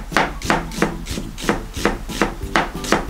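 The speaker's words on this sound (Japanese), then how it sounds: "お野菜切っていきましょう。 玉ねぎスライス" A knife cuts an onion thinly for potato salad with crisp, regular strokes against a cutting board, about nine evenly spaced chops, close and clear.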